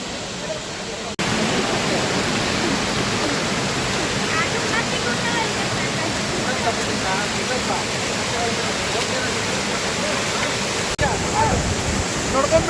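A waterfall roars with a dense, steady rush of falling water and spray, loud and close, continuing unbroken through the whole stretch.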